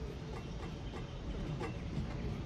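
In the city-building game Cities: Skylines, a train passes with a steady rumbling roll and faint rhythmic clacks, moderately loud and continuous throughout.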